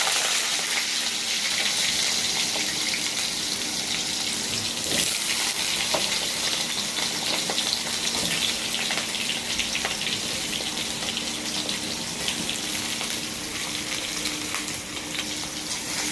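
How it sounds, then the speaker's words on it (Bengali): Potatoes and green banana sizzle in hot oil with cumin in a wok, making a loud, dense, continuous frying hiss that runs steadily throughout with a few faint clinks. "আলু আর কাঁচকলা দিয়ে দেবো"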